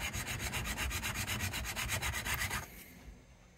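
A file works the wood of a 1970 Gibson Les Paul Deluxe headstock in rapid, steady rasping strokes, close and loud, then stops abruptly near the end.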